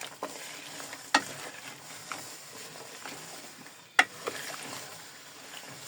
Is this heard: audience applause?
no